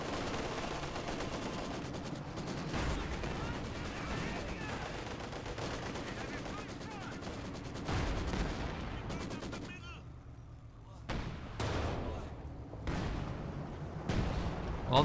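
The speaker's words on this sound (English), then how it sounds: "Well, the Werfer is firing once again." Werfer rocket artillery firing in Company of Heroes 2, a steady roar of launches and battle gunfire mixed with distant explosions, with a short quieter gap before more sharp blasts.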